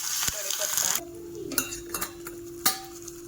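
Cumin seeds crackle in hot oil for a tadka, giving a light sizzle with a few sharp pops and ticks, plus a clink of a metal pan and utensil, close and fairly quiet.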